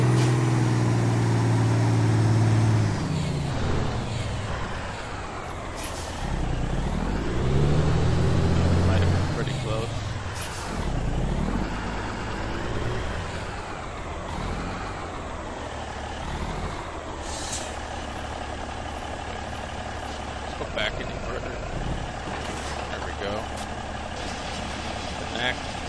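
A truck in the video game American Truck Simulator backs up with a large trailer, its engine droning and shifting pitch as it maneuvers, with air-brake hisses and a steady mechanical hum throughout while someone talks over it.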